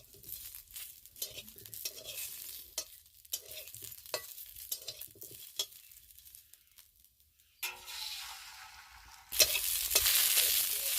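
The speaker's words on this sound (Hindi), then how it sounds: "वर्तमान एबे आलू भजा चलछि।" Potatoes frying in a pan in a home kitchen: scattered scraping and clinking strokes as the pieces are stirred, then a louder, steady hiss of sizzling oil near the end.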